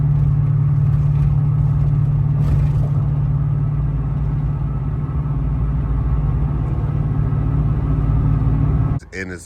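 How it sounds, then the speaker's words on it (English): A constant low exhaust drone and road rumble inside the cab of a truck with a cammed 5.3 V8, cruising at steady speed, unbroken until it drops away near the end. "I still have minimal drone inside the cab at cruising speeds."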